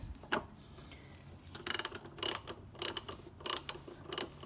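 Ring spanner working a nut on the fuel pump of a Fiat 500, giving a few short metallic ratchet-like clicks and scrapes in irregular bursts, close and fairly quiet, with no talking.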